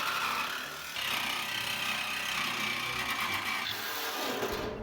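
Bosch cordless jigsaw cutting through a steel oil barrel drum being made into a BBQ, a loud, continuous buzzing rasp of blade on metal that dips briefly near the start and then carries on steadily up close.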